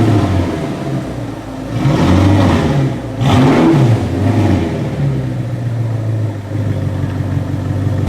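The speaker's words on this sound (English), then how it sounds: "let's get the R8 on the dyno for the 3rd run" An Audi R8 engine revving on a dyno, loud and close, surging in a couple of strong pulls that rise and fall over a sustained mechanical drone.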